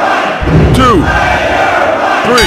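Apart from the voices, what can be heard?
crowd roaring in a wrestling video game (WWF Attitude, Dreamcast)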